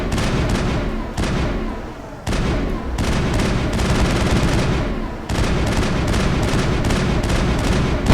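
Loud, dense gunfire during a fight on Feros in Mass Effect, rapid shots hammering almost without pause, with two brief dips in the barrage.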